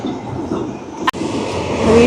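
A tram rumbles steadily nearby on a street in Milan, Italy, with a sharp click midway, and a faint wheel squeal rises toward the end.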